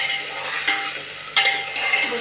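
Vegetables tossed with turmeric in a hot pan for homemade Marathi khichdi, a steady close sizzle with light scraping stirs and a couple of brief clatters.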